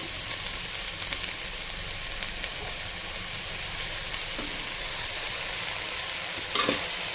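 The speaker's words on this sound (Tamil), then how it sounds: "வெங்காயம் ஓரளவுக்கு வதங்கிடுச்சு" Chopped onions sauté and sizzle steadily in a hot pan, a close, continuous frying hiss with occasional stirring scrapes and no voices.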